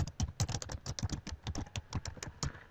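Quick, steady keystrokes on a computer keyboard while someone writes C# code, a dense run of crisp clicks close up with no talking.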